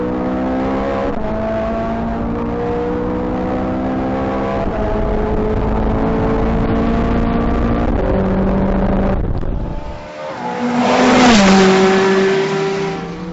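A Ferrari 430 Scuderia, 2009 model, revs hard through its open exhaust valve, a loud, sustained engine howl climbing and holding in pitch, briefly dropping off before surging again in a sharp rise near the end.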